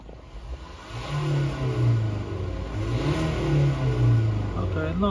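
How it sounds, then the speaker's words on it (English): A 2019 Land Rover Discovery 2.0 SD4 diesel engine with DPF and EGR faults revs up in rising and falling pulls, close and loud, over a steady rattling idle, with no one speaking. "We rev it up a little bit."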